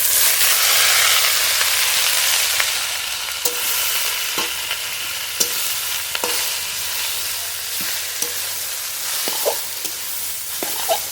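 Garlic, green chilli and greens sizzle steadily in a pan with oil, a loud continuous hiss broken by occasional sharp clinks of a spoon stirring.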